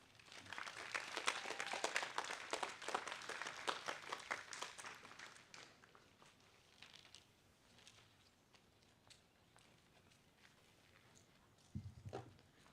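A crowd at a bar mitzvah ceremony applauds, with many hands clapping loudly at first, then thinning and fading toward the end as a few scattered claps and a low thud remain.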